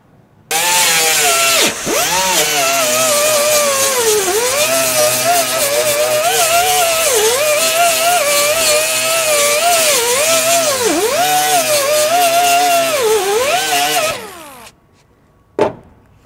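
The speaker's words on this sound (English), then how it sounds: "I'm gonna get my drill and we'll do it." A power drill fitted with a spot weld cutter bores into the sheet metal body of a 1958 Chevy Delray, running loud and continuous for about thirteen seconds with a steady, wavering whine, then stopping, followed by one short final burst.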